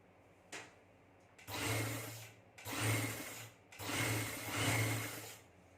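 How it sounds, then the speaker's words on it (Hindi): A sewing machine stitches a trouser hem in three sustained runs. Each run is a steady mechanical whirr with a low hum, separated by short pauses and a brief click. No one speaks. "तो चलें इस साइड पे भी सिलाई लगाते हैं।"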